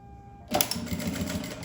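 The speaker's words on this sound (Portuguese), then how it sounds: "Vou passar uma costurinha aqui primeiro. Bem na beiradinha, ó." A sewing machine starts up and stitches along the edge of a strip for a backpack, a steady, close mechanical whir with rapid needle clatter following a brief quiet moment.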